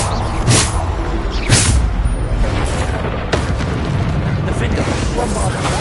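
Bombarda explosion spell cast in the Hogwarts Legacy video game, loud booming bursts at about half a second and one and a half seconds, then a further thud, over dense continuous battle noise.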